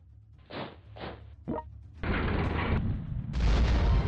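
Rocket artillery firing in the Reich mod strategy game: three short thumping launches in quick succession, followed by two heavy, sustained roaring blasts that swell louder toward the end.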